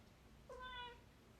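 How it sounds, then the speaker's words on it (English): A cat meows once indoors, a short, fairly faint, rising-and-falling call heard alone against a quiet room. "can you guys hear the cat?"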